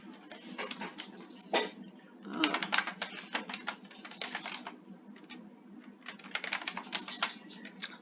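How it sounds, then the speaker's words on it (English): Quick bursts of keystrokes clatter on a computer keyboard while text is entered in Illustrator, close and fairly quiet, with short pauses between the runs of typing. "And T for text, I'm going to type"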